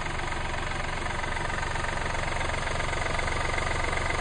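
Kia Rio 2014 with a 1.1 CRDi diesel engine idling, a steady even mechanical hum with faint knock, close and continuous, no voices.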